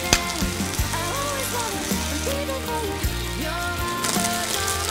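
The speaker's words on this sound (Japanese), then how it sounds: "皮目を下にして焼いていきます。" Chicken pieces fry skin side down in a pan for a sweet-savory BBQ chicken with onions, a steady sizzle running throughout under prominent background music.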